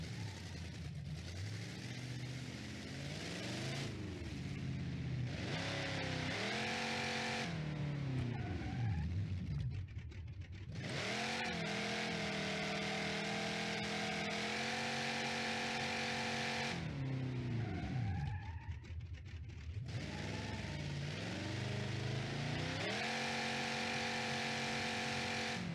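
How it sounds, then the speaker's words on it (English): Engine revving in a BeamNG.drive Burnside project car making close to 500 horsepower, loud continuous throttle swells and gear changes with rising and falling pitch, some tyre skid, no talk. "I love this engine. It sounds so good."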